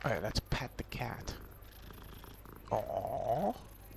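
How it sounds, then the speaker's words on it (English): A cat purring as it is petted in the Hogwarts Legacy video game, a low soft purr under a short burst of nearby talk, with a brief rise of other game sounds near the end. "Alright, let's pet the cat."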